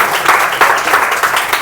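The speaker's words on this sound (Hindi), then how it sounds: "आदेश की एक बार जोरदार तालियां।" Participants at a corporate training session give loud, energetic applause for a fellow attendee, many hands clapping densely and close for a short burst without speech.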